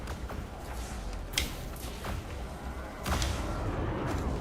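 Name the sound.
weapon barrage in ship combat, from the video game Elite Dangerous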